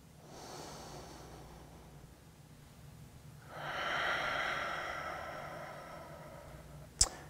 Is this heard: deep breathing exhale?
yes